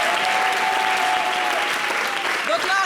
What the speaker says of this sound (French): Applaudissez pour nos maquillages.